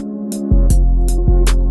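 Trap beat built in FL Studio, snare cracking on a steady pattern over booming 808 bass and a repeating synth melody, loud and upfront with no talking.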